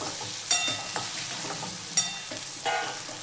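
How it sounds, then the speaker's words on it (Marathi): Cluster beans sizzle and fry in hot oil in a pan, a steady crackling hiss broken by a few sharper spits and stirring clatters, close and alone without talk. "गवारची शेंग 2 ते 3 मिनिटं चांगली तेलात होऊया"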